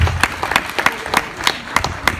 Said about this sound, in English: let's give God a big warm round of applause for being here and alive and coming together.